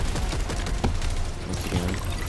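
Rapid gunfire rattles continuously against a deployable shield in Helldivers 2, a dense, steady barrage of overlapping shots with a few sharper impacts, loud and close throughout.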